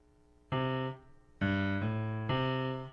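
Three low piano notes struck in turn, each ringing briefly, forming a short repeating bass pattern played alone and fairly close.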